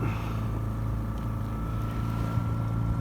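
A sailboat motoring on its engine across a flat, calm sea on a misty crossing from Corsica toward Saint-Raphaël, with a steady low diesel drone and hum holding constant throughout, close and continuous with light wash noise.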